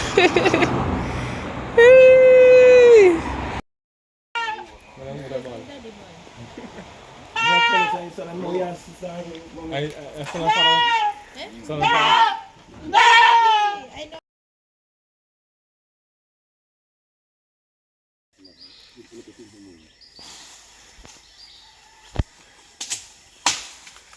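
A goat walked on a lead like a dog gives bleats early on, with wavering nasal cries standing out before and among stretches of nearby talk, followed by quieter outdoor sounds.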